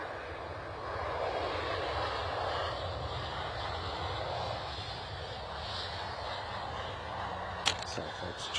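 An airliner arriving at London Stansted airport roars steadily as a broad, sustained engine rumble with faint whine, heard from a distance outdoors, with a brief sharp click near the end.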